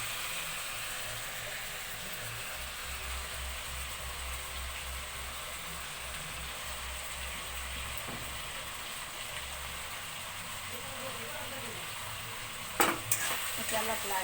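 Pork curry with ginger and garlic being stirred in a pan, a faint, steady background sizzle with low rumbling through most of it, then a few louder clinks and scrapes near the end, no talking.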